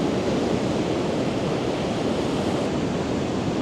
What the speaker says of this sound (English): I'm just waiting for the sea to come in and swirl around these rocks